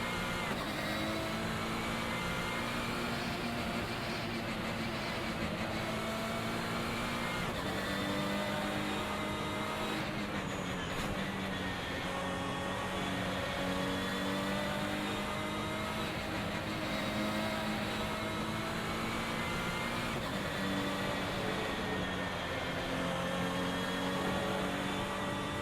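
A car engine in the Assetto Corsa racing game, driven around the Magnificent Park track. Faint, continuous engine drone with shifting pitch as it revs and changes gear, and no talking.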